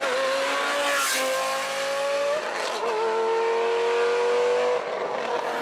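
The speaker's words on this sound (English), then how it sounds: "This Lamborghini Gallardo is straight-piped." A loud, raspy, straight-piped Lamborghini Gallardo Performante accelerates through gears, its pitch climbing and dropping at each shift, with a harsh, unmuffled roar.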